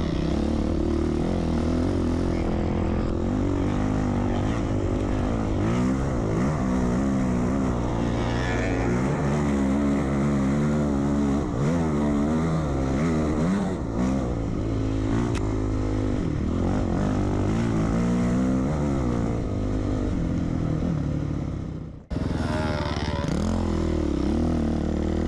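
KTM 200 two-stroke enduro motorcycle ridden through muddy spring woods, its engine droning steadily and rising and falling in pitch as the rider works the throttle, close and loud throughout with a brief dip near the end.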